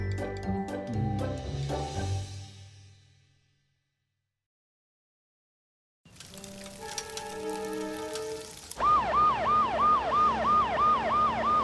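A cartoon fire truck's siren wails loud and near in rapid, repeating rise-and-fall cycles, following a stretch of music, a gap of silence, and a steady mechanical rumble.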